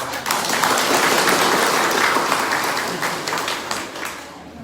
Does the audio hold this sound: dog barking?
no